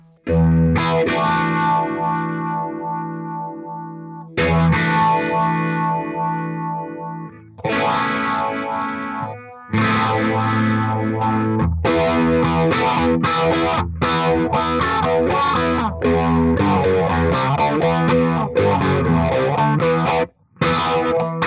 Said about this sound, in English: let's take the delay off so we can actually hear the phaser